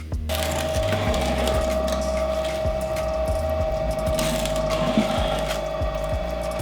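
A pottery pug mill runs with clay, giving a continuous mechanical drone with a steady tone and a repeated ratcheting, gear-like clatter throughout, close and fairly loud, with no talking.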